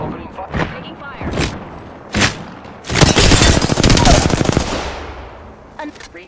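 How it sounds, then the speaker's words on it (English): Gunfire in Apex Legends on PS5: a few loud separate shots come first, then a sustained automatic burst of rapid cracks that slowly fades out. "Opening fire. Taking fire."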